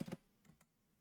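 Quiet, close typing on a computer keyboard: a quick cluster of several key clicks, then two fainter isolated taps within about a second.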